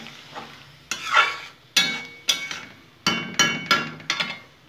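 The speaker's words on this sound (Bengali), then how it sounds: "ভালো করে এখন আমি নেড়ে চেড়ে শুকিয়ে নেব।" Tamarind pickle mixture is stirred in a pan, with a series of loud, rhythmic scraping strokes of a spatula about every half second over a soft sizzle.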